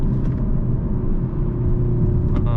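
A stock 2024 Hyundai Elantra N's engine and exhaust while driving, a constant low rumbling drone at close range with little variation and no voices.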